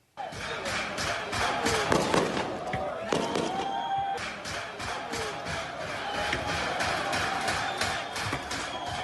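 Rapid bursts of automatic gunfire from gang members attacking soldiers guarding a prison crackle on and off throughout, loud and sharp against a noisy background with scattered distant shouting.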